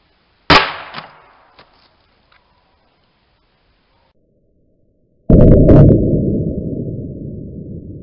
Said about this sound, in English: Maybe I'll take one more shot at this guy using a round ball.